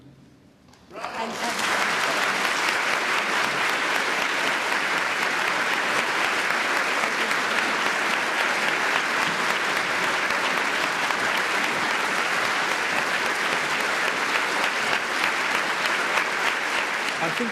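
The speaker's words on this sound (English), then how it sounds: "I think we need one last round of applause for Phyllis" A tribute evening for a film costume designer draws sustained, dense audience applause that starts abruptly and holds loud and even for about sixteen seconds with no talk over it.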